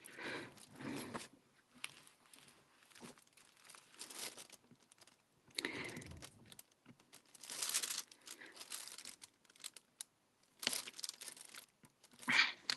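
Plastic wrapping crinkling in irregular bursts, close up and moderately quiet, with rustling spurts separated by short pauses, from diamond painting supplies being unwrapped.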